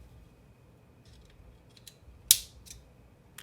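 A Lamella knife's cover snaps back into place with one sharp, crisp click, preceded by a few faint ticks of handling in an otherwise quiet room.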